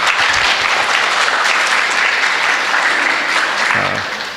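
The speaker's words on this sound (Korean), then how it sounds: "그분들 잘 오셨다고 우리 박수를 좀 쳐드리면 좋겠습니다." An audience in a lecture hall at a retreat claps together to welcome late arrivals, a loud, dense, sustained round of applause that fades slightly at the end.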